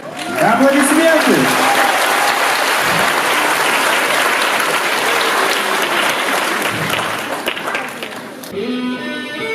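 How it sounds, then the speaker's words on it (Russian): Audience applause fills a symphonic rock concert hall, a loud, dense wash of clapping that runs steadily throughout, with a voice briefly calling out near the start and an announcer speaking over it at the end. "Аплодисменты!"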